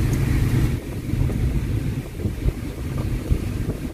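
Strong wind gusts across the microphone at a seaside viewpoint at Laem Hua Mong–Khok Kwang, Chumphon, Thailand, a continuous low rumble with steady buffeting and faint surf, close and fairly loud throughout.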